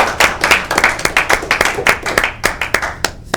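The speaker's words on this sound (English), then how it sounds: "So a round of applause." Audience applause at a comedy show, a burst of quick hand claps close by that rises and thins out, with no one talking over it.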